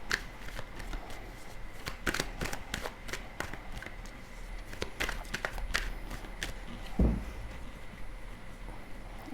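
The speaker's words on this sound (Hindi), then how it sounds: "उनके लिए हम कार्ड ड्रॉ करेंगे और देखते हैं कि क्या सूरत हाल है" Tarot cards are shuffled and drawn in a quiet room, giving soft riffling flutters and crisp snaps of card against card in irregular bursts, close but faint, with one dull thump near the end.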